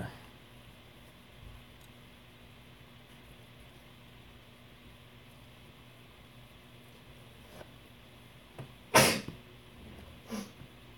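One sharp indoor sneeze bursts out near the end of a quiet stretch of low room hum, followed by a smaller second burst.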